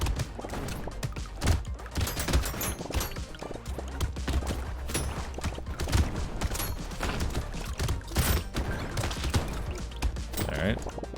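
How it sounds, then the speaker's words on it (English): Nuke launcher weapons in the game Brotato fire again and again, a relentless barrage of blasts and thuds crowding together over eleven seconds, with a voice talking at times underneath. "The nuke launcher is doing all of the damage."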